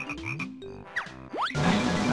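Yellow frogs in a swamp level of Banjo-Kazooie give a series of cartoonish croaks and rising boings, brief and close, ending in a burst of noisy game effects.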